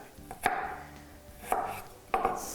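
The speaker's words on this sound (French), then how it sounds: "je vais hacher vraiment finement l'ail" A knife chops garlic finely on a board, three distinct sharp thumps spaced unevenly with quieter scraping between them, close and clear with no voices.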